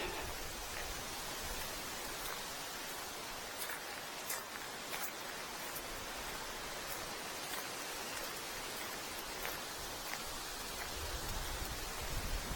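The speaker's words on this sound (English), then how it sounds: "Certainly windy today" Wind blowing outdoors during a walk, a steady, broad rushing hiss with faint gusty crackles, fairly quiet and continuous throughout with no voices.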